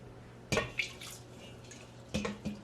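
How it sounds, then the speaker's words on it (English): Water is added to a cooking pot for oxtail in two brief splashing bursts with a few drips in between, against a quiet kitchen background. "I'm gonna add a little bit more water."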